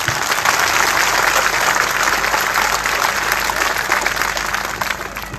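A village gathering's audience breaks into loud, sustained applause, dense clapping holding steady for several seconds before easing off slightly.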